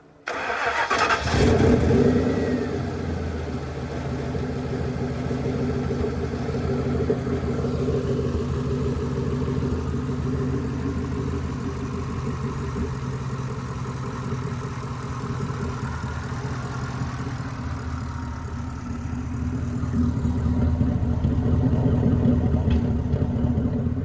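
A Ford F250 truck with a DIY turbocharged DOHC engine starts and then drives along, its engine droning steadily at mid pitch with a swell in revs near the end, heard from inside the cab without talk.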